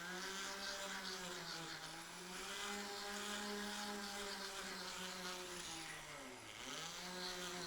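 A jeweler's pedal-controlled motorized sanding tool with fine 600-grit paper works a gold ring, giving a steady, close whining hum that briefly dips in pitch a couple of times as load changes.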